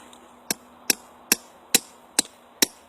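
Six sharp metallic hammer strikes ring out at a steady, even pace while remaking a coyote trap set, each one crisp and close, with quiet between blows.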